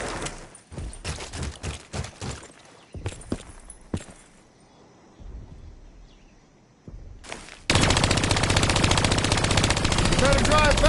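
Heavy turret gunfire from the Call of Duty: Black Ops 3 campaign, with bursts of rapid shots and loud sustained automatic fire toward the end, mixed with game effects and moments of talk.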